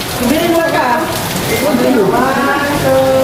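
Rain falling during a visit to the Chocolate Hills viewpoint in Bohol, a steady hiss of rain on surfaces running under talk from people nearby throughout.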